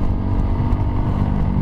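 A Kawasaki KLX150 motorcycle with a loud exhaust runs close by, a steady, throaty low engine drone that holds without a break across a short stretch.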